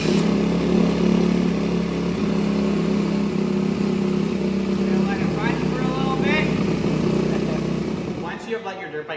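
A dirt bike engine runs steadily after an oil change, a loud, close, continuous drone with slight shifts in pitch that cuts off near the end, followed by faint ticking.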